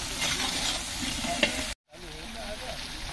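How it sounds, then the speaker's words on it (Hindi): Steady sizzling as rice is fried in a pot with lemon juice, scraping stirring strokes, continuous and fairly close, with a brief dropout partway through. "तीन से चार मिनट तक वापस से इसे फ्राई करेंगे।"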